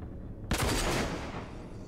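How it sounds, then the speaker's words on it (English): Gunfire in the video game RAGE: after a quiet start, a loud burst of rapid shots erupts and rings out, then tails off into a decaying echo. "I'll just shoot you."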